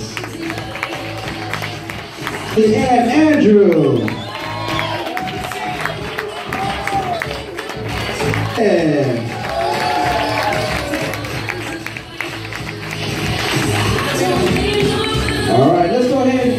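Wedding guests clap and cheer in a busy reception hall, sustained applause with whoops and whistles under a brief spoken name.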